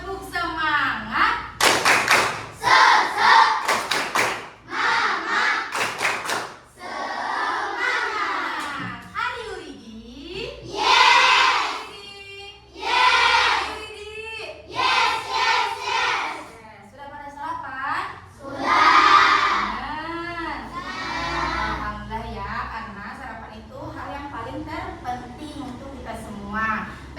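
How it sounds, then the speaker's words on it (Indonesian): Children in an Indonesian classroom perform a rhythmic spirit clap, sharp patterned hand claps alternating with loud chanted group cheers, close and energetic throughout. "Coba ibu mau cek nih, tepuk semangat."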